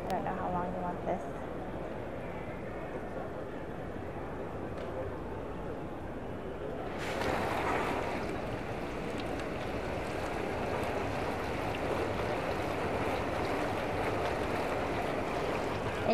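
Steady water sloshing and rushing inside a BioWash medical sterilizer during its washing cycle, a low continuous churn that grows slightly louder partway through, with someone talking over it.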